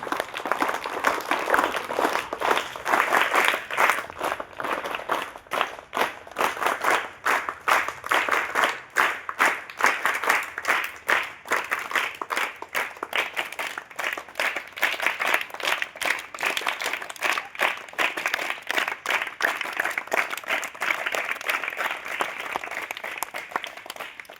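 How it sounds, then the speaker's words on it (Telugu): Sustained, loud applause from a crowd gathered at a school shoe distribution event at a Zilla Parishad high school, steady rhythmic clapping filling the whole stretch without letting up. "వారికి ఒకసారి గట్టిగా సిస్టమేటిక్ చప్పట్లు"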